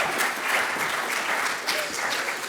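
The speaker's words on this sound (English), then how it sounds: "And let's give them a round of applause." Dense applause from a Comic-Con panel audience greeting the panelists, a continuous, even roar of many hands clapping close and steady for a few seconds.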